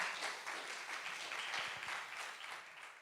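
Soft, distant audience applause follows a poetry performance at a fashion sustainability event, a short even patter of clapping that tapers off, with a brief murmur of voices.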